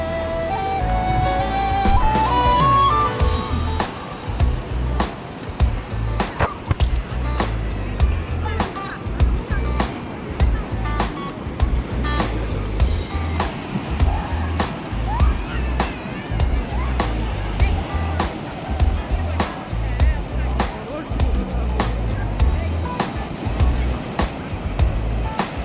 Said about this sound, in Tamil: இந்த அலை என்ன அழகாக வருது பாருங்கள்.